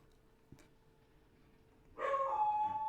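A dog lets out a sudden burst of whining barks near the end, loud and close, after a stretch of near silence.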